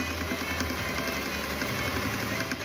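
A sewing machine stitches a DIY tote bag, running in a fast, steady mechanical whir-and-patter close by with no pauses.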